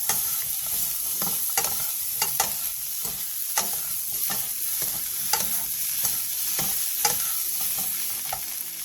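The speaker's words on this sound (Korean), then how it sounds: "2분 정도 가볍게 볶아주세요" Fish cake and shishito peppers sizzle in a pan as they are stir-fried, and the spatula scrapes and clacks against the pan in frequent short strokes, close and steady, with no voices.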